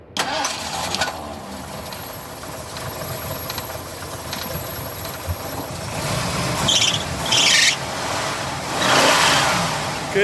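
A 1979 Lincoln Continental engine cranks and fires, then settles into a steady idle. It is close and fairly loud, with a few surges of revving near the end and no speech.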